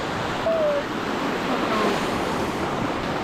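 Ocean waves wash steadily onto a beach on a cold day, a broad continuous roar at moderate level with wind across the microphone and no speech.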